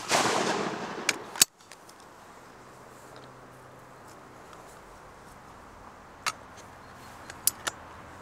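A single shotgun shot fired at a clay target on an outdoor range: one sharp, loud report with a brief echo, followed by quiet and a few faint distant bangs.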